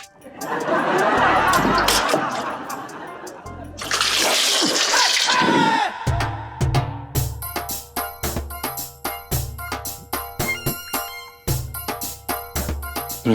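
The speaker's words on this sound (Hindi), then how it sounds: "गरम पानी डाल लें।" Hot water pours and splashes loudly in two bursts of rushing, gushing noise, followed by rhythmic music with beats.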